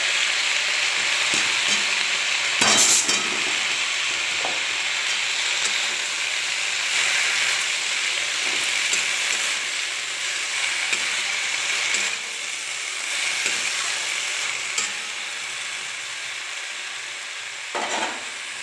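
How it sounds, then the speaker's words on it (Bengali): Fenugreek leaves sizzling steadily in a hot pan while being stirred, a loud continuous frying hiss with occasional scraping strokes and clanks close up throughout. "এরপরে মেথি শাকগুলো দিচ্ছি।"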